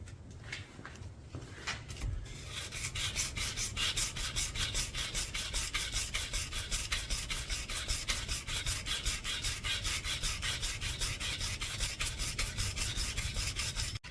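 Sandpaper at 320 grit rasps back and forth over a homemade knife blade, starting with a few scattered strokes and then settling into fast, even, repeated scrubbing strokes heard up close for the rest of the clip.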